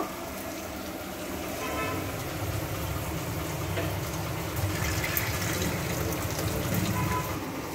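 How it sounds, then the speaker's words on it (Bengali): Cooking water poured off boiled jackfruit seeds makes a steady gushing, splashing stream that runs without a break, close and fairly loud, with a low rumble under it. "দানাগুলো থেকে জলটাকে ফেলে দেব।"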